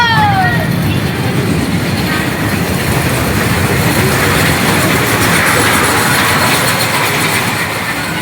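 A fairground train ride runs steadily at a Baruipur fair, giving a continuous loud rumble and rattle throughout with a faint squeal at the start and crowd noise mixed in.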